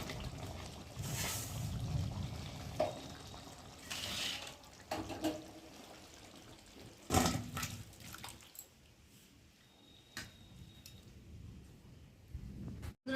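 Water trickles and splashes faintly in intermittent bursts, with a few louder pours and quiet gaps between them.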